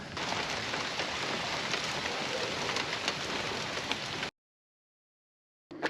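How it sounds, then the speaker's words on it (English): Heavy rain falls steadily during a thunderstorm in Italy, a dense, loud hiss of drops on surfaces that continues unbroken for about four seconds before stopping abruptly. "Oh, here comes the rain. Ooh, yeah. Thunderstorms."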